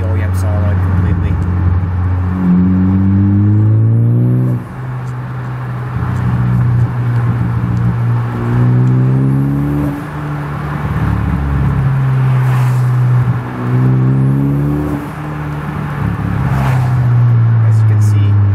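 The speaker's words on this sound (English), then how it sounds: "Here's the Guardian Angel fully controlling the Tial Q bypass valve in the Focus ST and bypassing the OEM solenoid completely." A Ford Focus ST fitted with a Tial Q bypass valve drives through repeated gear changes, its loud engine note climbing in pitch and dropping at each shift, with short whooshing releases between pulls.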